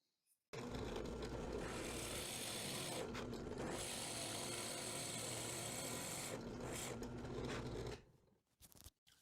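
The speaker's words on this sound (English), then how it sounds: "before I start reaming this out with this bit here, I'm going to actually start with a Forstner bit" A Forstner bit bores into wood for a grill accessory, a loud, steady grinding whir running about seven seconds with a brief dip midway before cutting off.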